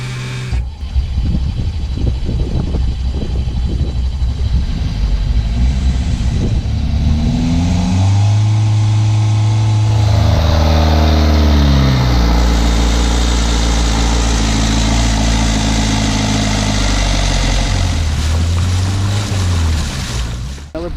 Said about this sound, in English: But the engine's running again.